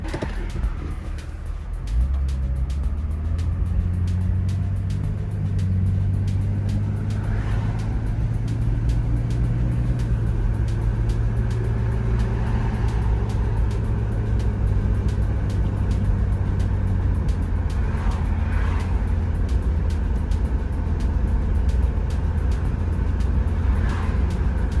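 A 1999 Jeep Cherokee XJ with the 4.0L engine drives on the road after a tune-up; a steady low engine drone with a rising then settling tone and road rumble fills the cabin throughout.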